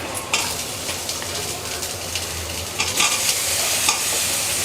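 Onion frying in hot oil in a pan with grated coconut, stirred briskly: lively sizzle broken by several scraping spoon strokes, close and fairly loud, with no talk.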